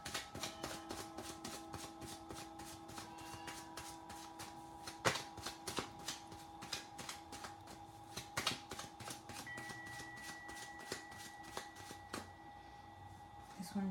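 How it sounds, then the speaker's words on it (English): Oracle cards shuffled by hand in a steady run of soft, rapid riffling taps with a few sharper slaps, close and fairly quiet against a faint background hum. "let me go ahead and shuffle the cards."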